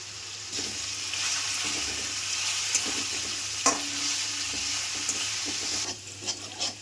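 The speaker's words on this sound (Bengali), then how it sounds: "লো টু মিডিয়াম ফ্লেমে আলুটাকে একটু ফ্রাই করে নেব।" Potatoes fry in a pan over a low-to-medium flame for an egg-potato bhujia. A steady, close hiss of sizzling oil runs throughout, with scattered scrapes and clicks of stirring and no talk.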